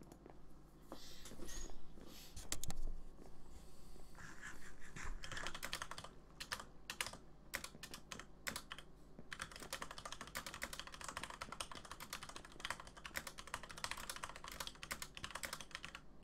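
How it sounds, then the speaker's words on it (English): Mechanical computer keyboard typed on rapidly during a Minecraft Better than Wolves session, dense clicky keystrokes rattling steadily for a long stretch, close up and loud, with no speech. "Loud typing for the win. It's my keyboard. It's to one of those mechanical ones."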